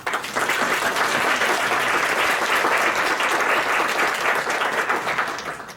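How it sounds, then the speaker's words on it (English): Steady applause from a conference audience, dense and sustained clapping that holds at an even level throughout before tapering slightly at the end. "Please a brief round of applause."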